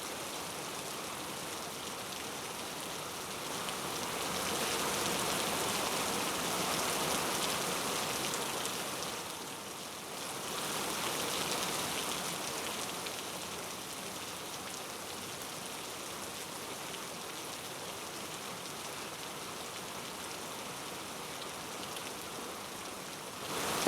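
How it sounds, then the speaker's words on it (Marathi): Heavy overnight rain pours down on Mumbai, a steady broadband hiss of downpour that swells briefly and then eases slightly, continuous throughout with no voices. "तर मुंबईला काल रात्री पावसानं झोडपून काढलंय।"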